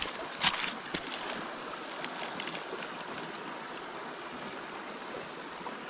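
A clear stream near a crystal cave flows in a steady, fairly faint rushing wash while someone wades across, with a couple of sharp splashes near the start.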